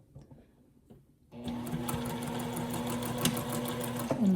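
A sewing machine back stitching hoodie fabric starts up after a quiet moment and runs at a steady, fast, even hum of needle strokes, close and alone.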